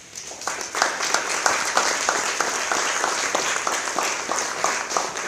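Steady indoor audience applause for the Portuguese Olympic Committee at a sports integrity event, with dense clapping holding an even level throughout.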